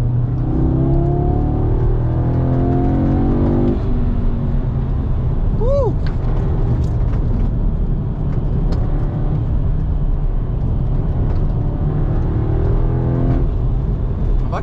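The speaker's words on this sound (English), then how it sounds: "If you guys can hear the intake." An Audi S3 8Y drives on a local road, its engine and intake droning loudly and steadily with rising revs as it accelerates, heard from inside the car throughout.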